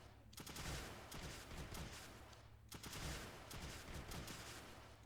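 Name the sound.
launchers firing in the video game Creeper World 2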